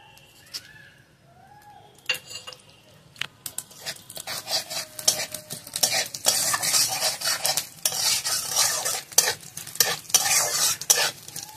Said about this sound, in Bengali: ফোড়নে আমি নিয়েছি গোটা জিরে আর তেজপাতা।